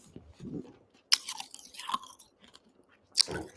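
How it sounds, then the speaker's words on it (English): Close, crunchy chewing of food, with a few distinct bites and mouth sounds spaced irregularly against a quiet background, no speech. "trying to stimulate the salivary glands by chewing"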